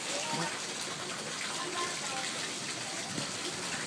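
Water from a hose runs steadily onto a rooftop gutter, a continuous broadband hiss and splash that holds level throughout with faint voices underneath.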